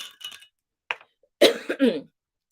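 A few brief throaty sounds, then a sharp close cough in a quiet room.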